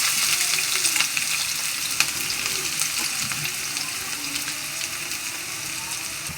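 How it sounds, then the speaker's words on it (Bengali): Sliced onions frying in oil left from frying chicken, for a chicken roast, give a dense, continuous crackling sizzle close up with faint stirring underneath. "পেঁয়াজ আমি বেরেস্তা করে নেব।"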